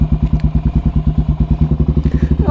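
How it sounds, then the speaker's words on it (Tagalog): A 400cc Cafe 400 motorcycle with a loud open pipe idles close by in the morning, its single-cylinder exhaust thumping in a fast, steady, even pulse throughout. "Ito problema minsan dito sa maingay na pipe kapag ka morning"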